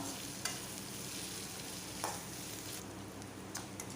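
Chopped onion and a green chili sauté in a pan for tomato-onion chutney, giving a soft, continuous sizzle with faint stirring scrapes, close and alone without speech.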